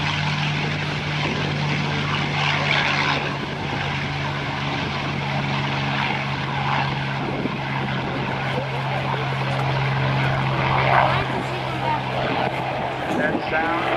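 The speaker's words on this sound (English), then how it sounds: "So different from the sound of the F4U Corsair, this is the liquid-cooled" Liquid-cooled V12 Packard Merlin engine of a P-51 Mustang at an airshow, a steady droning roar from a distance holding for the whole stretch with a low steady tone, crowd voices faintly underneath.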